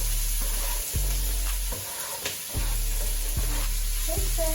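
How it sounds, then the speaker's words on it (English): Oil sizzling in a pan while vegetables are sautéed for lettuce wraps, a steady loud crackling hiss with a few stirring clanks, no talking. "That's how you know the oil is heating up, so now it can be able to saute the vegetables."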